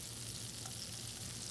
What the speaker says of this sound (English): So we add a little bit of butter, some shallots